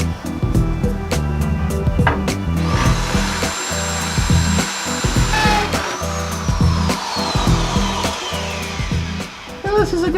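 A power drill bores holes in steel for a Unimog expedition truck's winch mount. The drill whirs loudly and steadily, then gives a rising whine as the bit cuts the metal, close up and continuing throughout.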